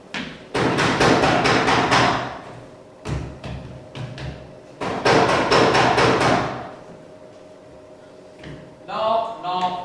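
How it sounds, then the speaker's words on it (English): Knocking on a door during a stage performance of Macbeth, heard as two long runs of rapid, loud, hollow thuds separated by a pause, ending with a brief voice. "Here's a knocking indeed."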